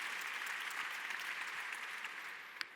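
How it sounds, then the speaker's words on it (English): Audience applause for guests at a conference panel on roaming and reliability, steady dense clapping throughout, fairly distant, with one sharper clap near the end. "let's give a big round of applause to our guests"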